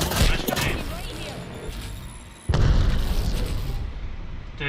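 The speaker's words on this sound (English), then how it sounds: "Nice grenade." A grenade explodes in a first-person shooter match, a sudden loud boom midway that jumps over steady gunfire and game noise, with players talking throughout.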